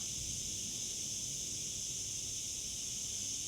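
A steady, high-pitched chorus of crickets hums continuously in Spain, with a low background rumble beneath it and no talking.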